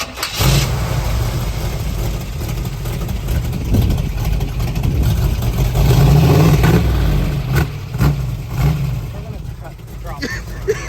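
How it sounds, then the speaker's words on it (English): A Lexus LX470 V8 engine, fitted with the right spark plugs, cranks, fires and settles into a loud, steady idle with some revving, while people talk over it. "Have y'all heard this bad boy run?"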